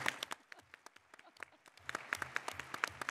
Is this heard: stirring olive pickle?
no